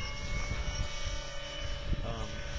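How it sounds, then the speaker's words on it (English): Main rotor of an RC helicopter converted to electric power, spinning at 1800 RPM: a steady whirring drone with a low rhythmic thrum, close by and continuous throughout. "That's 1800 RPM, the main rotor."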